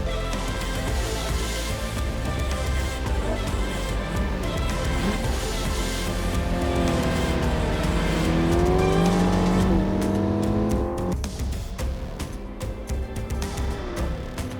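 A C8 Corvette and an FL5 Honda Civic Type R race hard on track, engines roaring loud and continuous. Revs sweep upward through the gears and cut sharply on shifts, with tire noise beneath.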